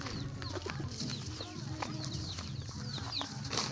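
Chickens and chicks cluck and peep steadily in a farm coop, a dense chorus of overlapping calls close by with frequent short chirps and clucks throughout, no one speaking.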